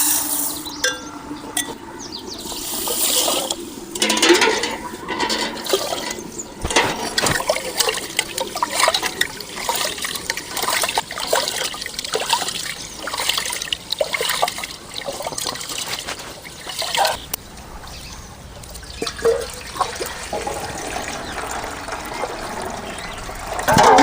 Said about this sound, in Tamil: நல்லா அரிசி நல்லா சுத்தம் பண்ணிக்கலாம்.